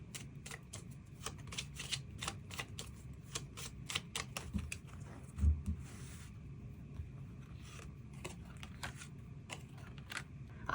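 Tarot cards are shuffled and drawn in quick, papery riffles and flicks that come in dense bursts, close and quiet. A single soft thump breaks the pattern midway.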